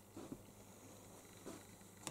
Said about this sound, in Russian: Ой, хорошая кошка.